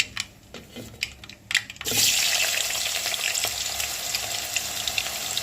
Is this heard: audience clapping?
no